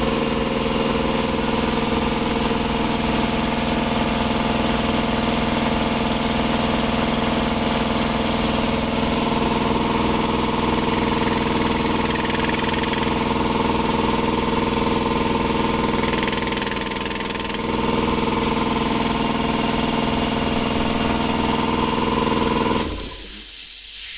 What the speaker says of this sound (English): this is one of the quietest single-stage belt-driven compressors I've ever heard